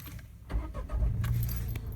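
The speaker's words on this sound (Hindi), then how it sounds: "गाड़ी स्टार्ट करते हैं" A Tata car being started, with keys jangling at first and then the engine cranking and catching into a low, steady idle that continues close by.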